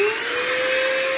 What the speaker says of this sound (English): you can just listen to the output of the vacuum